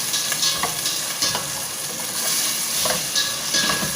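Garlic sautéing in a pan with ginger and onion for tinola, a dense steady sizzle broken by repeated spatula stirs and scrapes at an irregular pace, close up without speech.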